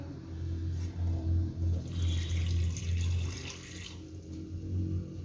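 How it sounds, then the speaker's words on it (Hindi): Water, about one and a half glasses, poured into a pan holding jaggery: a short splashing rush over a low steady hum, close by and alone, with no talking. "अब इसके अंदर मैं पानी ऐड करूंगी।"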